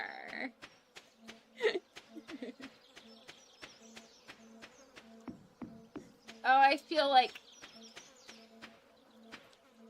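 Bees buzzing in the Stardew Valley video game, a thin insect drone running steadily through the clip beneath a speaking voice and scattered game sound effects.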